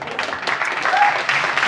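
A studio audience at a late-night talk show claps in a short, dense burst that is loud and close, with some talk mixed underneath.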